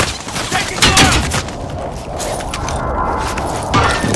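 Dense, chaotic gunfire in Call of Duty: Modern Warfare, a loud burst of overlapping shots and impacts about a second in, continuing as a rough, busy battlefield wash through the rest.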